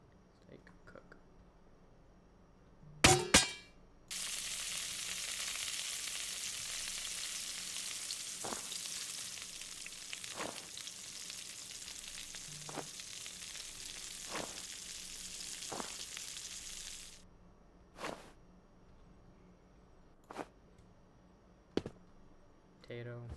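Steak frying in a video game kitchen, a dense hissing sizzle that starts abruptly, holds steady for about thirteen seconds and cuts off, framed by scattered clicks and taps.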